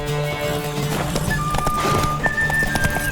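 Horse hooves galloping in a race in The Witcher 3, a fast, steady clip-clop rhythm with a whinny, under game music and brief character voices.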